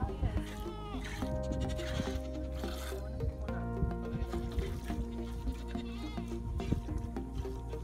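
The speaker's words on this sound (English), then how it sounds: "I think we're gonna milk some goats now" Goats bleat repeatedly during milking at a herders' camp on the Mongolian plains, close and fairly loud, with people talking and livestock noise throughout.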